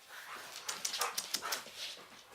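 A Rottweiler puppy gives a run of short, high whimpers and yips in quick succession, close and fairly clear, with no talking over it.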